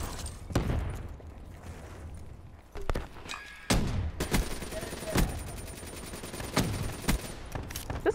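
Rapid automatic gunfire in Call of Duty: Black Ops III, sharp shots cracking in quick bursts and sustained streams, loud and close, with some footsteps and a brief voice in between.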